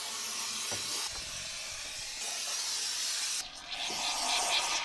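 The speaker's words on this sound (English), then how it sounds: "works on that second coat of spray foam" Spray foam insulation blasting from a gun inside a shipping container house during a second coat, a loud continuous hiss with a few short pauses and restarts.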